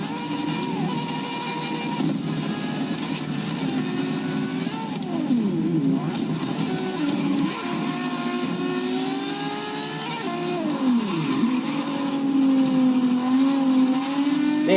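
Ferrari 599XX engine in Forza Horizon 3, a loud, close engine note climbing through repeated rev sweeps with shifts and drops in pitch, continuous and without voices.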